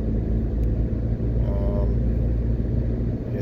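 Road traffic on the Edward Seaga Highway, the north-south leg of Highway 2000 in Jamaica, heard as a steady close rumble of passing cars with continuous low-end road noise and no clear breaks.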